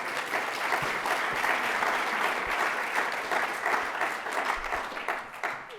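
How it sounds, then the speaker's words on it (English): An audience applauds at the close of a symposium, sustained and fairly even clapping from a large room with no talking over it, easing slightly toward the end. "Give yourself a round of applause."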